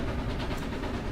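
A train tender derails in the Garry's Mod video game, producing a loud, steady rumbling roar of rolling rail cars with faint rhythmic clatter, alone and close.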